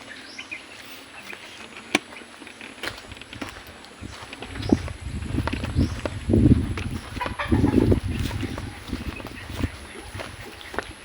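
Chickens clucking and murmuring in a coop on a farm, with scattered rustling and soft thuds from nearby, steady low farmyard background.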